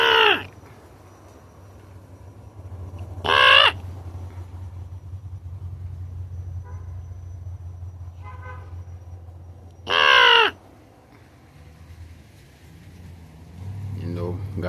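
Crows caw outdoors in three loud, separate calls spaced several seconds apart, over a low rumble of distant traffic.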